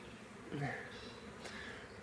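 Low steady buzzing of many bees at a hive, faint and continuous, with a brief louder drone passing close.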